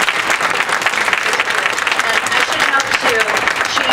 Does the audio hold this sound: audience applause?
yes